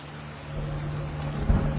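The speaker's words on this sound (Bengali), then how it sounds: "গোপাল গাছে ঠেক দিয়ে আনমনে বৃষ্টির মনোরম দৃশ্য উপভোগ করছে।" Steady rain pours down in a dense, continuous hiss, with a low rumble building underneath toward the end.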